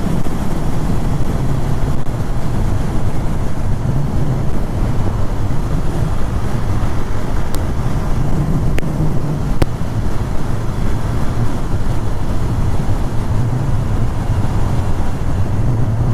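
KTM Duke 390 motorcycle riding on an open road in humid weather, a steady loud roar of engine drone mixed with heavy wind buffeting on the microphone, continuous throughout with no breaks.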